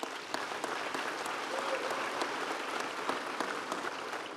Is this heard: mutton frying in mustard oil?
no